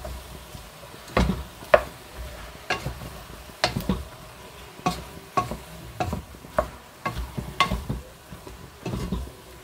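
A spoon scrapes and knocks through a ham-and-vegetable pasta sauce in a pan over high heat, about a dozen sharp clacks in an irregular rhythm over a soft sizzle, close and fairly loud.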